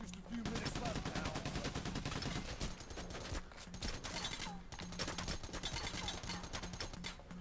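Rapid gunfire from a couple of warning shots in Payday The Heist, dense volleys of shots running throughout the game's steady loud background, with a voice speaking briefly over the shooting.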